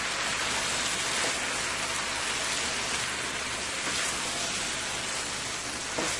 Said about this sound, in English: I am going to let this continue to fry with my potatoes